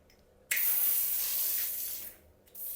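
Water sprays sharply and hisses onto bathroom tile grout during cleaning, starting abruptly, holding steady for about a second and a half, pausing briefly, then resuming, close and fairly quiet.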